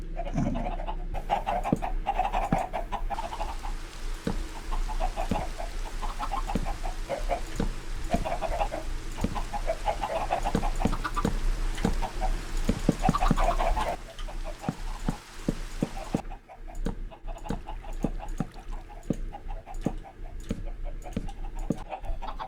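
Chickens in a Minecraft coop cluck over and over in short calls across a long stretch, layered over ongoing game sounds, with the clucking thinning out near the end.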